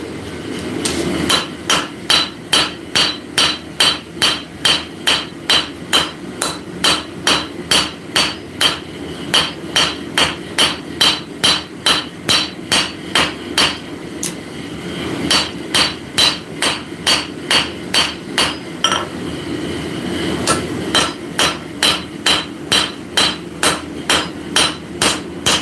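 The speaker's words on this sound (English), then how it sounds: "now I'm going to stretch it out with a cross peen," A straight cross-peen hammer, not a rounding hammer, strikes hot metal on an anvil to stretch it out during live forging in a workshop. Dozens of loud, evenly paced ringing blows follow one another steadily, with no talk.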